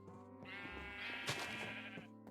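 A single sheep in Minecraft lets out one drawn-out, wavering bleat at close range, with a short sharper burst partway through, over a faint low hum.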